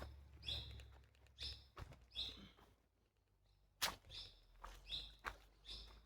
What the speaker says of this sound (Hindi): पक्षियों की सुंदर सुंदर आवाज आ रही है,